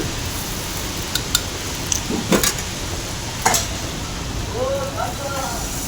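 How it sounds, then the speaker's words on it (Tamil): Oil is smeared in a hot pan and appam batter poured in, giving a low steady sizzle with a few brief clinks and scrapes, and no talk. "இப்போ எண்ணெயை தடவை வச்சு நான் மறுபடியும் மாவு ஊற்றி"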